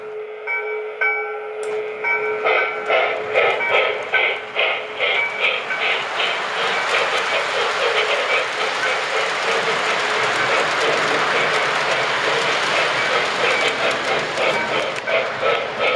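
A model 0-8-0 steam locomotive runs steadily, its rhythmic chuffing and clicking loud and continuous after a brief steady tone at the start, with no whistle or talk over it.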